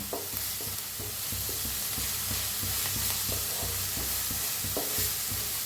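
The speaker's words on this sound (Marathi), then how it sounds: "नुसतं हलवत भाजून घ्यायचा कांदा।" Onion fries in a pan while being stirred, a steady sizzle broken by regular scraping strokes of the spoon, close and even throughout without speech.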